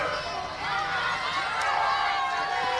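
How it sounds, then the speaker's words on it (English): Crowd noise at a girls' state softball quarterfinal, a steady murmur of fans building slightly as a batter steps up, heard beneath a commentator's talk. "the crowd has picked up the noise because they know who's up to bat for Wahlert"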